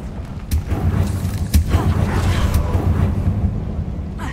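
A Confringo fire spell bursts in Hogwarts Legacy gameplay, giving a deep rumbling blast with sharp impacts over a steady roaring background, loud and close, while a player voice casts spells.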